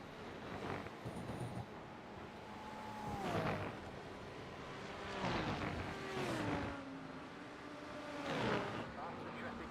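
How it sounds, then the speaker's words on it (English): Faster race cars approach and sweep past in the iRacing sim, several whining engine passes with falling pitch rising out of a steady faint drone. "Faster traffic approaching."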